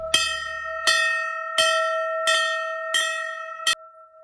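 A bell is struck six times at an even pace, each clear metallic ring sustaining and fading before the next strike.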